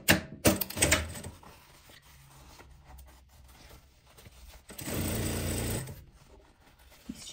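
A sewing machine topstitches a fabric seam, starting with short bursts and later running in one steady mechanical whir for about a second, close and alone.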